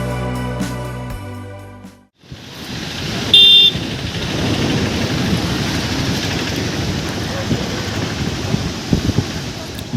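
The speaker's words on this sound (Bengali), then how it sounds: "ঢেউ ভাঙার আওয়াজ, বিকেলে সমুদ্রের বাতাস আর নিরিবিলি পরিবেশ" Sea waves break on the beach at Barrister Colony in Digha in the afternoon, a broad, rushing roar mixed with sea wind that swells steadily after a couple of seconds of music.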